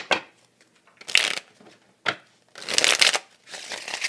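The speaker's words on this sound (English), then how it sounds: "me give it one more quick shuffle here" Several bursts of tarot cards being riffled and shuffled, crisp papery flutters in quick bunches with short pauses between them, close by and alone.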